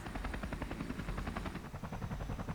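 Rapid, rhythmic chopping of a helicopter in the video game Persona 5 Royal, a steady thumping rotor pulse with a low rumbling base, sustained and fairly loud without any talk.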